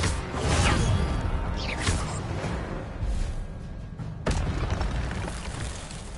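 Incendio fire spell cast in a video game, a loud whooshing burst of flame with a boom at the start and another sudden burst later, rumbling in between, no talk.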